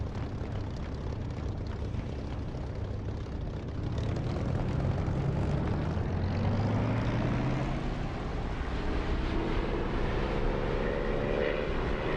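An aircraft engine roars and builds in pitch as it powers up and lifts off, a loud continuous rumble with no voices.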